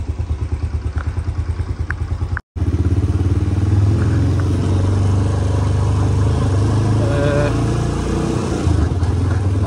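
A motorcycle engine runs loud and close, steady after a brief cutout, as the bike sets off alone for the Cholistan desert near Moj Garh Fort, Bahawalpur, with some clatter and a voice speaking over it.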